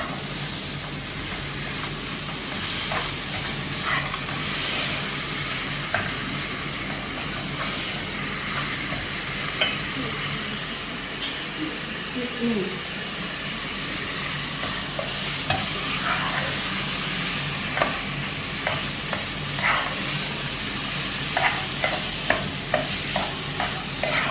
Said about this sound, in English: So just keep on stirring until the meat is brown, and then add the other ingredients to it.